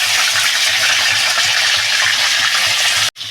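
Tilapia fish frying in hot oil, a dense even sizzle with soft bubbling pops, close and steady until it cuts off abruptly near the end.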